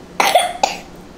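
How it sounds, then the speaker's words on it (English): Two short, sharp coughs from someone still sick with a lingering cough, close to the microphone, the second briefer than the first, in an otherwise quiet room. "We still have our coughs."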